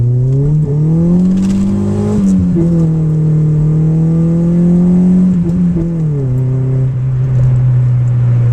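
A 1985 Honda CRX Si's engine drones loud and close from the cabin, its pitch climbing and dipping as the revs rise under acceleration and then drop between shifts.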